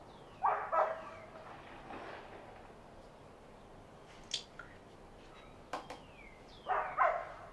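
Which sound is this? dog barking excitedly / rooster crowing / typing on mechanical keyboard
dog barking excitedly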